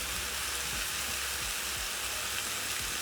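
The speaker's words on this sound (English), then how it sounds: "I'm frying my potatoes in the bacon grease that remained when frying my bacon" Potatoes sizzling in leftover bacon grease in a pan, a steady dense crackle and hiss with occasional soft pops, close and continuous with no voices.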